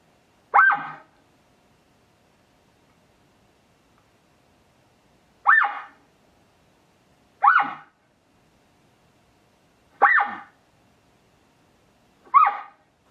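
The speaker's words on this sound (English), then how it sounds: "If you hear multiple barks, this is probably a full-on alarm." An elk gives a warning bark five times: short, sharp, hoarse barks set well apart against near silence, clear and fairly close, with no talk.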